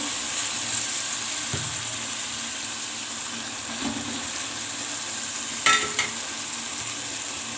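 Potato and pea curry fries in desi ghee with a steady soft sizzle, broken by a few stirring scrapes and clinks.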